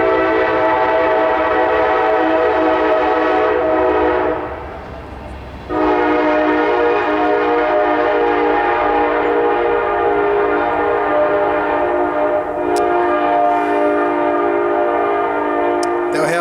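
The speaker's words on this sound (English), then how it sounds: "Here's the Kansas City Southern Railroad" A Kansas City Southern Railroad train passes nearby, sounding long, loud, sustained horn blasts broken by a short pause, with the rumble of the train beneath.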